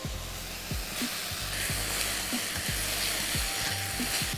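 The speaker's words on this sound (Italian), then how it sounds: "Lo facciamo saltare a fiamma alta per un paio di minuti, muovendolo spesso" Bell pepper and zucchini sautéing in a pan over a high flame, a loud, steady sizzle close by with repeated low thumps and scrapes as the vegetables are tossed and stirred, without speech.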